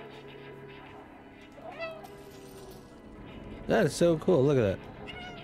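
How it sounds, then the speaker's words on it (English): Meows from a cat in the video game Stay: a faint one first, then a loud run of three or four close, bright meows, alongside someone talking. "It's like everything I meow at responds back."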